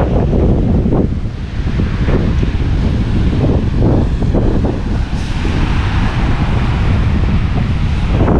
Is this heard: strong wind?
yes